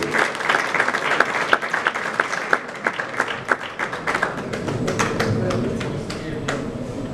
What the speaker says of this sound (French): Ça mérite qu'on applaudisse encore un peu.